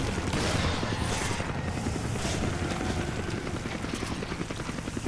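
A helicopter in the video game Resident Evil 5 gives off a loud, continuous rotor thrum throughout, with bursts of gunfire layered in and no talking.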